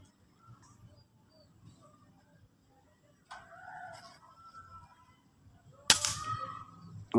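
A Crown MK2 air rifle fires a single loud, sharp shot at close range during target shooting at about 30 meters, after a stretch of faint background noise, with a brief rustle before the crack and another sharp transient right at the end.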